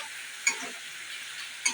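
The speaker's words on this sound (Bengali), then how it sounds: "আমি সেই আলুটুকু দিয়ে দেবো এর ভিতরে," Potatoes and spice paste sautéing in a small pan, a soft steady sizzle with a few light stirring clicks, close and alone without talk.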